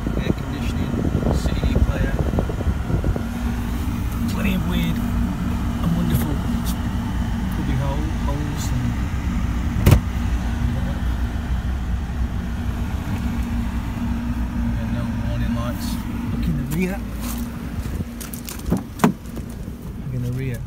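A car engine with 138,000 miles runs at a steady idle after starting first time. The low, even rumble carries on throughout beneath a person talking, with a few clicks and knocks.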